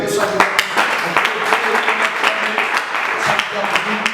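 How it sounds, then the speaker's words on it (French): Audience applause in a church gathering, steady dense clapping with a continuous texture. "Est-ce qu'on peut très bien acclamer?"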